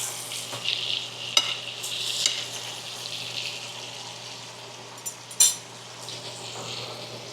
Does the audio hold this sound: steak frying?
yes